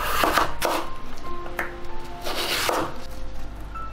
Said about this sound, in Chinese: 萝卜我们再给它切成长条